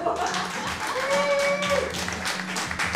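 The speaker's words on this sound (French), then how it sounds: "Applaudissez très fort Vincent Descoteaux." An audience applauds a columnist being introduced on a show, a sustained wash of many hands clapping that runs steadily throughout, with voices faintly mixed in.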